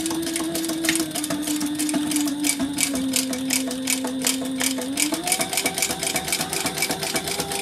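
A sewing machine top stitches a side piece in one continuous, close motor hum with a rapid needle clatter, its pitch shifting slightly partway through.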